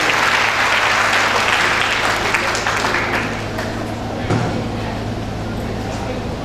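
A large audience at a school event in Amroha for a girls' education and safety campaign claps loudly to welcome a group of schoolgirls about to perform a musical skit. The dense applause is strongest at first, then thins and fades as a voice carries on over it.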